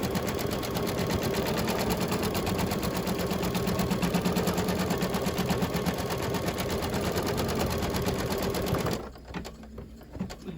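A computerized embroidery machine stitches steadily around the edge of a fabric coaster, giving a loud, even, rapid needle rattle that runs for about nine seconds and then stops.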